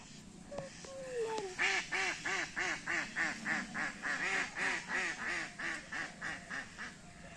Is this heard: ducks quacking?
yes